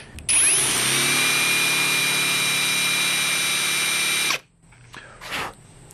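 A power drill whines steadily and loudly as its bit slowly widens a tuner hole in a guitar headstock, then stops abruptly, leaving faint handling noise.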